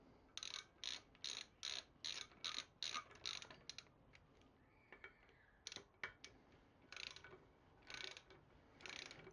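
A wrench ratchets as it tightens wheel bolts on a BMW K100 cafe racer motorcycle. The clicks come in short rhythmic bursts, then slower, sparser strokes. Quiet and close, with no talking.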